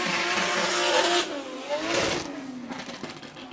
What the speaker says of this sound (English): So off the line, Beachy driving the Wharton Motorsport 180SX.